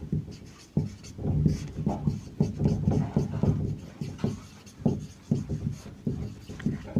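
Writing on a board during a chemistry lesson: a steady run of short scratchy strokes in uneven bursts, close and moderately loud, with no voice over it.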